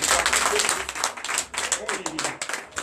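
A church congregation at a Sunday service in Comè, Benin applauds and claps steadily throughout, loud and close, with voices calling out over the clapping.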